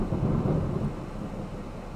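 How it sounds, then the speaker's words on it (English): Deep rolling thunder rumbles loud and low for about a second, then fades into a softer, lingering growl with a faint rain-like hiss beneath. "don't you love the thunder sound effects?"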